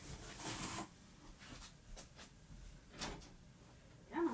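A door opening indoors to let a small scratching dog named Percy in, with a few soft rubbing and knocking thumps and a faint creak, quiet and close, no talking.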